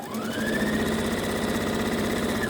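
A sewing machine stitches pieces of quilt fabric for a four-patch quilt, giving a steady, close mechanical whir with a rapid needle rhythm that runs unbroken for the whole stretch.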